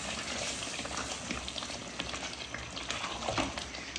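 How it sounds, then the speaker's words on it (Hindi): Cream being stirred into a Mughlai white mutton gravy in a pan, a steady close sizzle with soft scraping strokes running without pause, no voices. "अब हमें इस क्रीम को मिक्स करना है अच्छे तरीके से"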